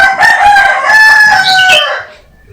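A rooster crows once in a long, strained call lasting about two seconds, close and fairly loud, with no talk over it.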